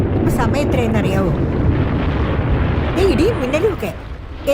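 Thunder rolls in a storm scene of a film, a loud, continuous low rumble that carries on under dialogue spoken over it.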